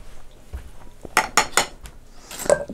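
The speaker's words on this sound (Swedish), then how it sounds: "Så, på med locket" A lid set onto a metal pot of simmering Thai chicken curry made with coconut milk, giving a few close, quick clanks and clinks in a kitchen, then a brighter metallic clink near the end.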